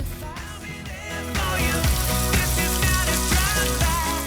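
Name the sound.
frying pastel and risoles in oil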